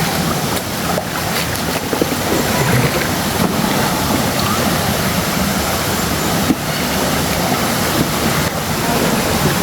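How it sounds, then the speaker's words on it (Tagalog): A waterfall pours steadily with broadband rushing water, loud and continuous, at a clear natural falls with wind buffeting the microphone throughout. "Ito na yung falls."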